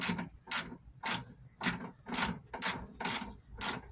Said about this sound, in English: I'm just going to use a regular ratchet for this one